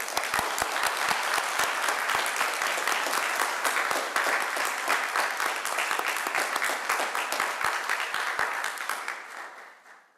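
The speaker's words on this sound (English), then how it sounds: "I think this is a time that we should applaud our graduates." An audience at a graduation diploma ceremony claps for the graduates, a loud, dense wash of individual claps that holds steady before fading out in the last two seconds.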